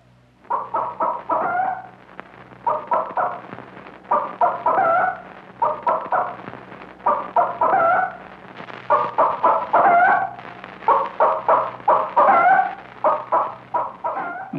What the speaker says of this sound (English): Chickens have various notes to express different degrees and kinds of danger.